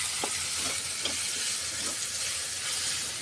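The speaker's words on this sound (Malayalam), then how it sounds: "ഇതിലേക്കിട്ട് തക്കാളി ഇതിലേക്കിട്ട് നന്നായിട്ട് വഴറ്റിയാണ്." Chopped tomatoes sauté in a pan for a dry fish curry, giving a steady, even hiss and sizzle throughout with a few soft clicks of movement, close by and with no talking.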